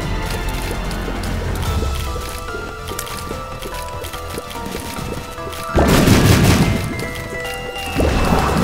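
Bombs burst with heavy, squelchy thuds in The Binding of Isaac during a mini boss fight, two loud explosions landing over a steady layer of game music and effects.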